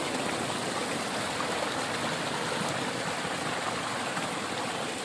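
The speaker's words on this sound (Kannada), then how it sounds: "ಇಲ್ಲಿ ನೀರನ್ನು ಹೆಚ್ಚಿಗೆ ಆತವ ಆಮೇಲೆ ನೀರು ತಳಗೆ ಹರಿದಂತವ ನೋಡ್ರಿ ಇವಾಗ ನೋಡ್ರಿ ನೀರು ಹೊಂಟವ" Irrigation water flows through a farm field channel with a steady, close, rushing gurgle that runs unbroken throughout, without talk.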